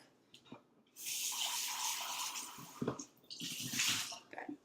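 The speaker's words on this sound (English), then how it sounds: "you're going to need to use this measuring cup again, so just going to rinse it out real quick" Tap water runs into a measuring cup as it is quickly rinsed out in a kitchen sink, a broad hissing splash in two bursts broken by clunks of the cup, close and moderately loud with no speech.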